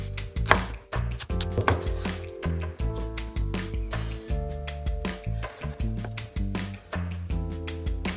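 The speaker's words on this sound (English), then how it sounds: "Chop the onion, spring onion, and slice tofu for later use" A knife chops onion and spring onion and slices tofu on a cutting board, giving a run of quick, close knocks in irregular bursts over faint background music.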